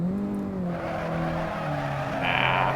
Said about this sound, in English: Even though the engine sounds pretty good.